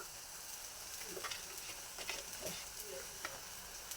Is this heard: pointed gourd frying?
yes